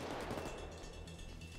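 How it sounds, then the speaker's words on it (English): Gunfire in PayDay 2 during a bank heist, a brief burst of muffled, rapid shots heard at low volume. "I get shot from behind."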